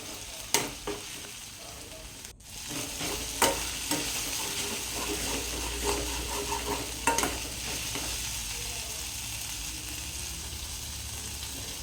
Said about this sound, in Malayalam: ഇതെല്ലാം കൂടെ മിക്സാക്കി കൊടുത്ത ശേഷം അതിലേക്ക് അരിഞ്ഞു വെച്ചിരുന്ന സബോള നമുക്കിട്ട് കൊടുക്കാം